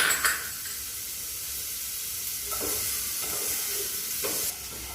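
Carrot pieces fry in a pan at a student cooking competition, giving a steady, close hiss of oil sizzle with a few brief stirring scrapes and no talk.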